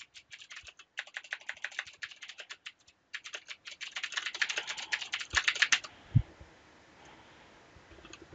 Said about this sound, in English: Now you can type in your text.